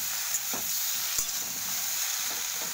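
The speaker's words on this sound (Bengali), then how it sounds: "জাস্ট কয়েকবার একটু নেড়ে," Green chillies stirred in a hot wok, a steady close sizzle of frying broken by a few light scrapes of the spoon, with no voices.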